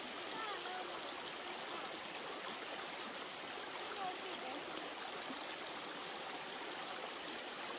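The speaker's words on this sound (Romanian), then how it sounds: "apă de izvor" Mountain spring water flows steadily in the Călimani Mountains of Romania, a continuous broadband rush and trickle heard close up, with no talking over it.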